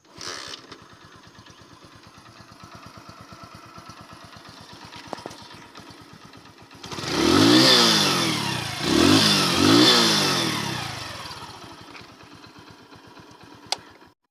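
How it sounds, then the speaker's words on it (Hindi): A motorcycle engine with a freshly cleaned carburetor catches on a single kick without throttle and roars up loudly, revs twice, then settles back toward a quieter idle. "सिंगल किक से विदाउट एक्सीलेटर की बाइक एक बार में स्टार्ट हो गई"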